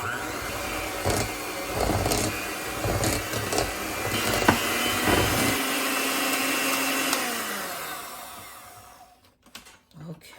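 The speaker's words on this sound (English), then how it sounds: "I have my hand mixer here." An electric hand mixer whirs through cream cheese for a cinnamon roll bubble bake, a loud, continuous motor drone with rattling beater knocks that winds down and stops near the end.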